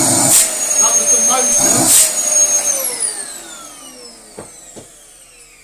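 A Dyson DC14 vacuum cleaner left outside in winter runs with a loud high motor whine, then spins down with a falling pitch, while a person speaks briefly over it.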